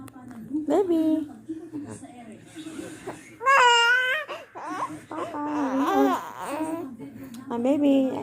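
A baby cries and babbles close by, with rising, wavering wails and whimpers that come in bursts across the whole stretch.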